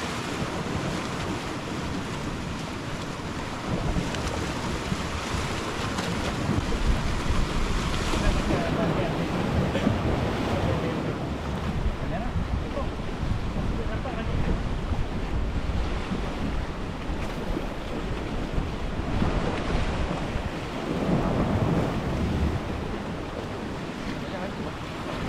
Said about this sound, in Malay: Sebab ombak dia makin tinggi.